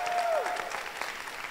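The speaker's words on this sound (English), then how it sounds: "So round of applause for the audience, everybody" A short burst of steady audience clapping, dense and fairly close, with a faint tone at the start.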